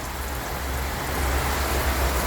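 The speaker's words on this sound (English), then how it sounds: "It's raining." Rain falls steadily over Cape Town as a dense, constant hiss of drops on surfaces, close and fairly loud, with no voices.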